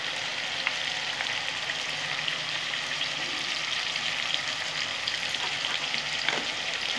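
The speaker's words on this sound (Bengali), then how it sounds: "ভালো করে কষিয়ে নেবো।" Kashmiri chilli powder and spices sizzling in hot oil in a pan for a winter chicken dish with vegetables, a steady, close, continuous frying hiss with no talk.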